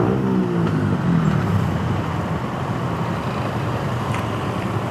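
Road traffic crawling past the skyway construction on the C5 extension expressway in the Philippines: a steady, dense rumble of car and heavy-vehicle engines, continuous and fairly close, with no talk.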